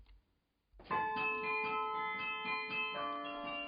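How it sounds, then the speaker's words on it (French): After a moment of near silence, many of the 50 bells of the Bergues belfry carillon ring out together, bright sustained tones overlapping in a rhythmic peal with lingering resonance. "le beffroi de Bergues peut enfin faire résonner ses 50 cloches"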